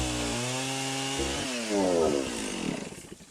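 A chainsaw engine drones loudly and steadily, then its pitch shifts and roughens as the blade bites into a standing tree, close by.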